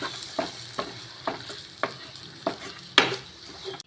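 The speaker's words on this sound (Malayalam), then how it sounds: "എന്നിട്ട് എല്ലാം കൂടെ നന്നായിട്ടൊന്ന് ഇളക്കി കൊടുക്കാം" Egg masala and coriander powder stirred in a frying pan, a soft sizzle broken by regular scraping strokes of a spoon about every half second, close, ending with a sharper clank.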